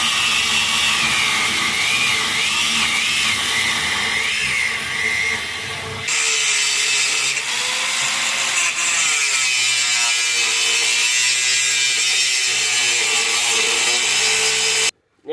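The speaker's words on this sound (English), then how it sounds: "now that we got that bolt cut off" A power tool cuts off a Torx bolt on the sway bar link mount of a 1997–2001 Jeep Cherokee XJ, a loud, sustained grinding whine that shifts in pitch partway through and stops abruptly near the end.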